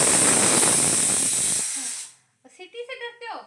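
A pressure cooker whistle blasts a loud, sustained hiss of steam that cuts off after about two seconds, followed by a person talking.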